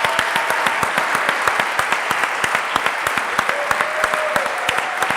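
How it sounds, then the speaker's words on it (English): Loud, sustained applause from a gala audience celebrating the IdeaUp Challenge 2021 winners, dense clapping with a few rhythmic unison claps standing out throughout. "Big applause for Qualut!"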